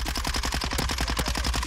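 An SMG converted into an assault rifle in Warzone 2 fires a fast, evenly spaced automatic burst of about twenty loud, close shots in under two seconds, with no talk.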